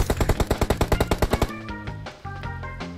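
Rapid automatic gunfire in PUBG Mobile fires a fast burst of about a dozen loud, evenly spaced shots, followed by ringing echoes and metallic game tones with no talk.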